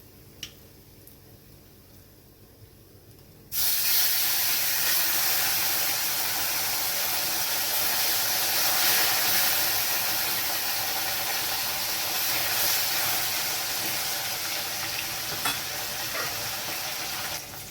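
Rohu fish pieces frying in hot oil for a home-style rohu and potato curry, a near, loud, continuous sizzle that bursts in suddenly after a quiet start and holds steady with occasional crackles.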